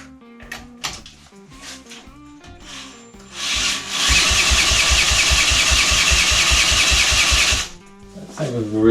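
A Triumph Tigress scooter engine being cranked and trying to start, with irregular mechanical clunks giving way to a loud rapid chugging burst lasting several seconds before cutting out, the effort then resuming.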